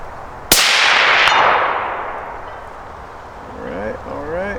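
A precision rifle fires once, a loud sharp crack followed by a long decaying echo, with a faint metallic ring from the steel target about a second later; voices start talking near the end.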